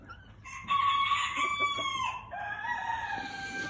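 Bantam White Crested Chocolate Polish chickens in a pen crow and cluck nearby, with a clear cock-a-doodle-doo and overlapping fowl calls.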